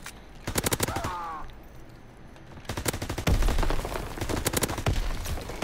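Rapid bursts of shotgun and automatic gunfire crackle through a team deathmatch video game, loud close volleys in two main clusters separated by a brief lull, with faint talk in between.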